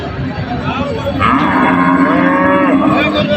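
Cattle at the Ratan Gandhi livestock market moo loudly and close, a long drawn-out low call over a busy background of market crowd noise.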